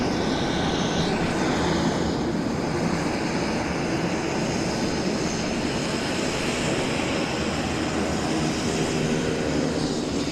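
Airliner taxiing at Vancouver Airport, a steady, loud engine roar with a whining tone, continuous and close, with no speech.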